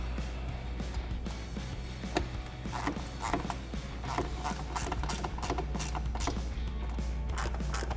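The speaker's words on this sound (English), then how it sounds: "tighten these 3 screws down using an 8mm socket." Ratcheting clicks and mechanical creaks from a socket wrench with an 8mm socket tightening three screws on a Jeep Wrangler JL rear suspension during a Teraflex 2.5-inch lift kit install, a steady run of close, irregular clicks over a low hum.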